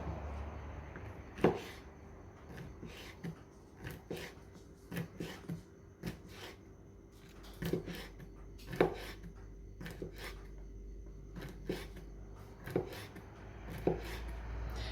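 A sharp knife slicing thin, skinny salami sticks on a board, a series of soft irregular cuts and taps, quiet and close, with a few louder knocks.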